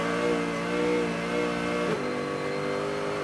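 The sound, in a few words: race car wheel spin on a wet track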